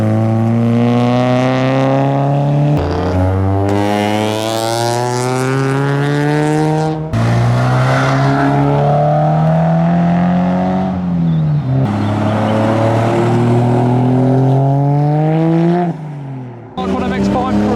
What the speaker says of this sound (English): we have an Evo driving past